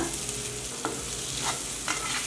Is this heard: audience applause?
no